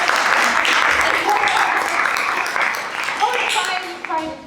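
Conference audience at a games industry event applauds a speaker, a broad sustained wash of clapping that is loud and continuous, with voices mixed in and tapering toward the end.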